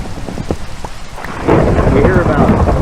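Rain and thunder in a Minecraft thunderstorm: patter and scattered drops give way to a loud, sustained rumble of thunder over steady rainfall.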